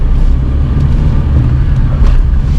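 A Tata Nano car labours up a hill in first gear, its small engine giving a steady, loud low rumble that holds throughout with slight surges, heard close from inside the car with no talking.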